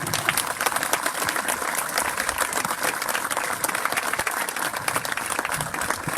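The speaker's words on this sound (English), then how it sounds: "How about another round of applause for the Color Guard and T.J. Murphy?" Outdoor crowd applause for a Color Guard at a monument dedication ceremony, with crisp, sharp individual claps layered into a continuous, moderately loud burst lasting several seconds.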